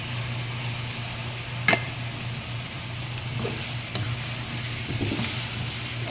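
Chicken pieces for a chicken curry hit a hot pan and sizzle steadily under a low, constant hum, with a few sharp clinks of a utensil against the pan.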